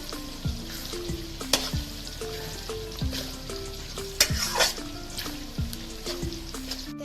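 Egg and vegetables fry in a pan with salt added, giving a quiet, steady sizzle broken by occasional crackles and soft utensil taps, and no speech.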